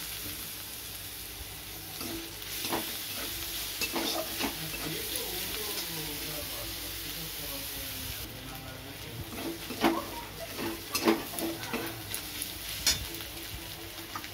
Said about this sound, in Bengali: এখানে রসুন কুচনোটা প্রথমে দিয়ে দিলাম। এবার রসুন কোড়াটা দিয়ে দেব, আদা কোড়া